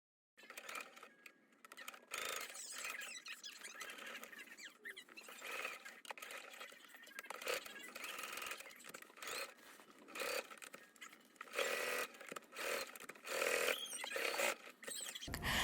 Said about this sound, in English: I'm going to take it over to my sewing machine